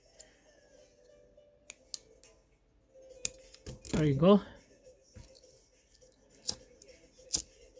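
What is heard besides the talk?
scissors cutting thin titanium sheet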